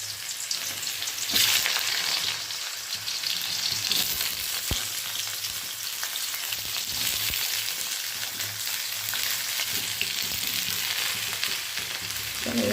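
Drumstick flowers and other vegetables frying in hot oil tempered with black cumin, giving a steady close sizzle that runs unbroken throughout with no talking.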